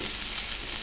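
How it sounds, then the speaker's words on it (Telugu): Ginger, green chilli and curry leaves sizzle in an oiled pan with a steady, dense frying hiss, close and even throughout the short moment with no pauses. "ఇదిగో అల్లం పచ్చిమిర్చి కూడా వేసుకుని ఒకసారి ఇలా వేయించుకోవాలి."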